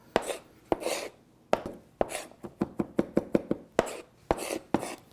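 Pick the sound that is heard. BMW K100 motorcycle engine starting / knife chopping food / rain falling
knife chopping food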